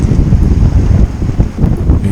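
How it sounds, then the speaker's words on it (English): Strong west wind buffets the microphone on a cycling group ride, a loud, steady low rumble with no break or voices. "You hear that wind."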